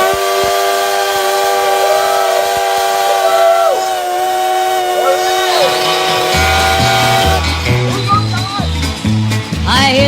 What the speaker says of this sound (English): I hear the train a-coming, it's rolling around a bend